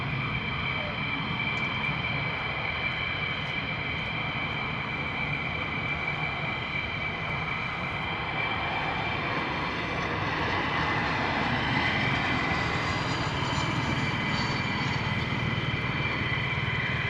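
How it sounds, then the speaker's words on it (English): A Bombardier Challenger business jet with landing gear lowered makes a low pass at RAF Lakenheath, its continuous engine roar and high whine sustained loud and steady throughout. "Oh, Bombardier's coming back in again, eh?"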